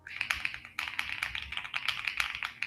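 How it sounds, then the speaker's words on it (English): Rapid, close clacking of keys on a creamy-sounding Japanese keyboard, with irregular bursts of taps and a short pause, and no talking. "it's like this creamy like keyboard from like Japan"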